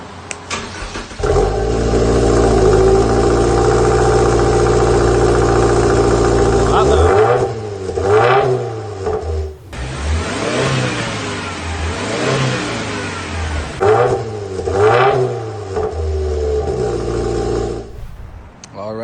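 A 2021 Subaru Ascent with the FA24 engine and dual exhaust tips starting up and idling, then revved several times in rising and falling bursts, loud and close.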